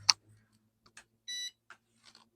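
A 1/24 scale JXC Mitsubishi Delica trail truck's three-channel radio controller gives a short electronic beep as it powers on, amid a few faint clicks and small handling noises.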